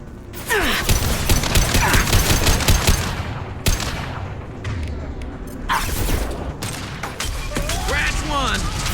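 Loud close gunfire in the video game Mass Effect 2, dense automatic bursts with impacts and a few heavier cracks during combat, with voices speaking amid the shooting.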